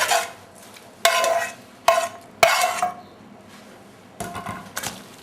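Cooked mushrooms and grated cheese are stirred into mushroom carbonara in a pan, with several loud scraping and clattering strokes of a utensil separated by brief pauses. No voices are present.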